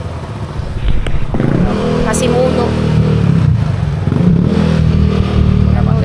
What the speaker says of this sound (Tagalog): Ingay pa ng motor.